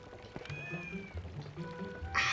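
A cat in the video game Twilight Princess gives a short tonal meow over quiet game ambience, followed by a brief burst of splashing water at the end.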